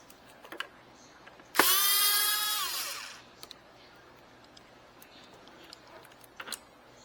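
A power driver spins out T15 screws holding a Ford F150 mirror motor: one loud, close whirring burst of about a second and a half, with faint clicks and handling noises before and after.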